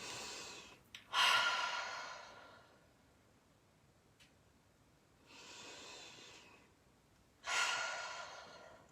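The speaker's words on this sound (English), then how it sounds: "take a big deep breath in" A slow, deep breath in during a gentle seated sway-and-stretch movement session, airy and soft. A few long breathy swells rise and fade with quiet gaps between them.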